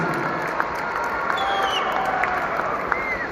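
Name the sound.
crowd applause and cheering for race drivers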